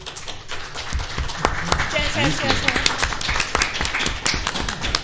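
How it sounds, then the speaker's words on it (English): Audience at a video-game voice actors convention panel claps in a scattered, lively burst, with a person talking over the applause the whole time. "Hold your applause"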